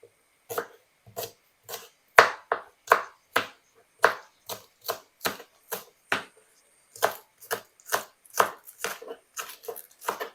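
Knife chopping spring onion on a board, a steady run of crisp, close, separate chops with short pauses between them, no voices.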